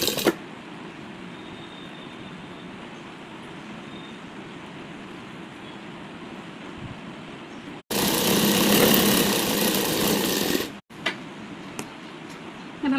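A sewing machine runs continuously while stitching a baby frock, a steady rapid mechanical whir close by, with a louder, harsher burst in the middle before it settles back to the even stitching hum.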